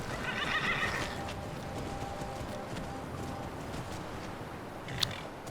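A horse in the modded Skyrim video game lets out a loud whinny near the start, followed by softer hoof clops and faint game ambience, with no talking.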